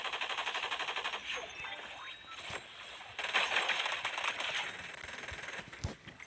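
Rapid automatic gunfire from a minigun in the Fortnite Blitz Royale game mode, dense repeated bursts with bright clinking shell-like sounds, steady and fairly loud throughout with brief pauses and no talk.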